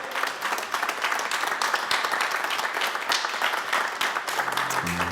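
A studio audience warmly applauds the arrival of an alternative musician, close and dense clapping sustained throughout before a voice comes in right at the end.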